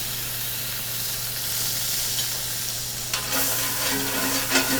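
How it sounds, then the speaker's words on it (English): Butter and olive oil sizzle in a cast iron pan set on a Kamado Joe grill, a constant close hiss over a low hum, with sharper spatters and stirring clatter growing near the end. "I'm gonna go ahead and add some butter, a little bit of olive oil."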